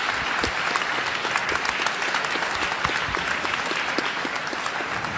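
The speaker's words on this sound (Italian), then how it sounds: "un applauso, credo che se lo meritano ampiamente" A crowd at an event applauds volunteers with loud, sustained clapping, individual sharp claps standing out within a dense, continuous patter that holds steady from start to finish.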